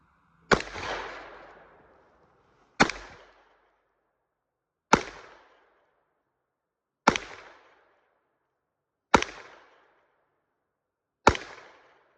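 Six sharp, loud shots from a Heritage Rough Rider revolver fired at about 20 yards, spaced roughly two seconds apart, each crack trailing off in a short echo.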